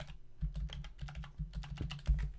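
Quick typing on a computer keyboard while test credit card details are entered, a close, irregular patter of key clicks in short bursts.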